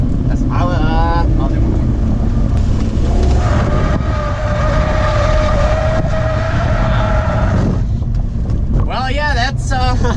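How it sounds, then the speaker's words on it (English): A stock BMW E36 with a 150-horsepower engine drifts, its engine droning steadily through the middle of the clip, with a voice talking at the start and tire or engine squeals near the end, under wind noise. "that's me drifting with 150 horsepower for you guys"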